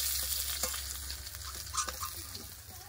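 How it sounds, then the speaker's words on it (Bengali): Fish, katla, sizzling in hot oil in a wok, a steady loud crackle with scattered pops and a few stirring scrapes, close and continuous. "লাল করে মাছ ভেজে নিচ্ছি।"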